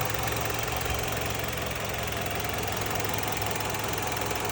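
A 2018 Mitsubishi Outlander Sport 2.4 engine idling hot close by, a steady low rumble with a faint rhythmic knock, unchanging throughout with no voices.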